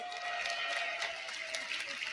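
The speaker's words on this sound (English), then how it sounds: "Give yourselves a round of applause, everyone" Audience applause from a crowd at a live talk event, a steady, even wash of many hands clapping at moderate distance with no voices over it.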